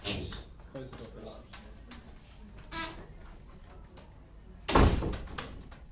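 A door shuts with a single solid thunk near the end, preceded by scattered room noises and faint voices in an indoor space.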